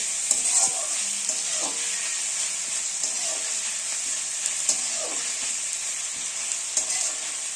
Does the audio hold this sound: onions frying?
yes